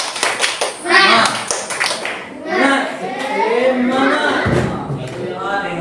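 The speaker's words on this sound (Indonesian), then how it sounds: "semuanya tepuk tangan yang meriah." A group of schoolchildren claps along in a morning classroom gathering, with sharp, scattered hand claps mixed with excited children's voices and shouting throughout.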